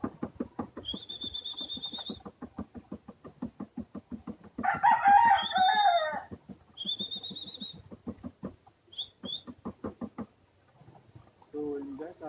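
A rooster crows loudly outdoors in one drawn-out call, with a person talking steadily before and after it.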